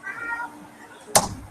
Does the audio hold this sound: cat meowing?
yes